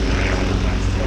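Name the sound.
Bucker Bu131 Jungmann biplane engine during aerobatic display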